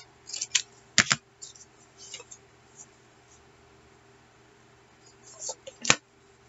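Scissors cutting paper for a journal, heard as a few sharp, close snips spaced apart over a quiet room with low hum and faint rustling.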